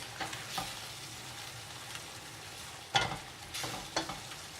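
Potato starch mix is stirred into Korean black bean sauce for jjajangmyeon, producing a quiet sizzle with several soft spoon scrapes and clanks against the pan.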